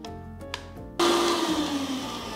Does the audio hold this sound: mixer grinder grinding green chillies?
yes